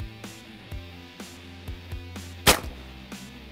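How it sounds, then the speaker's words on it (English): A .50 caliber air gun fires a series of sharp, spaced cracks, roughly eight shots at irregular intervals, one much louder and brighter than the rest, with no voices. "Shooting air guns is a lot of fun."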